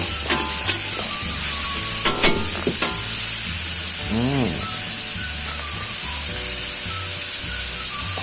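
Minced pork and straw mushrooms for Thai basil stir-fry sizzling hard in a hot pan on high heat, a steady loud frying hiss with occasional scraping and clanking of the spatula, close up, with no talking.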